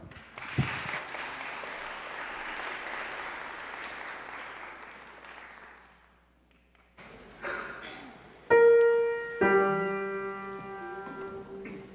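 Audience applause welcoming the West Laurens High School choir at a Christmas concert, a sustained round of clapping that fades out before piano and music begin.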